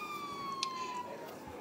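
A police car siren in GTA V wails in a single descending sweep, fairly faint and distant, over a low background rumble.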